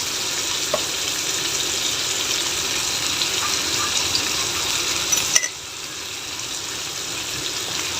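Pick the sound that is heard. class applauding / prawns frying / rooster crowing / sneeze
prawns frying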